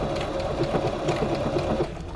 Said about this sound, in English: Just kind of let it go and sew on its own